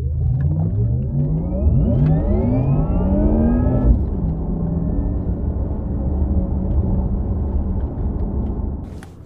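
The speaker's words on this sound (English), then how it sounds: "Porsche says that they recorded that sound based on the electric motors being on a dyno, and then of course they pipe it into the speakers." A 670 hp Porsche Taycan Turbo electric car plays its synthesized motor sound through the speakers, a smooth futuristic whine that climbs in pitch for about four seconds and then settles into a steady hum under the cabin drone.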